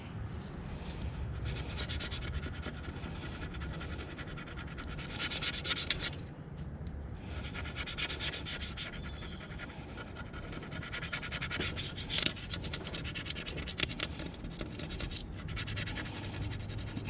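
Continuous rough scratching and rubbing from cleaning golf cart wheels, close and steady with repeated strokes and a few louder scrapes along the way, no talking.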